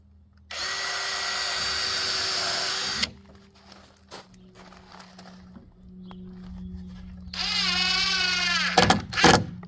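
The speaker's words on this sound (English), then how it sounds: "pre-drill a hole." A power drill whines loudly for a few seconds, pre-drilling a hole into a 2x4 while building a cedar privacy fence, followed by quieter clunks and handling noises, then another short burst of high-pitched drilling.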